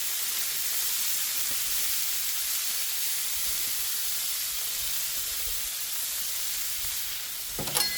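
Frozen multicolored cauliflower sizzling and steaming on a hot griddle, a loud, even hiss throughout, with a short clatter at the very end.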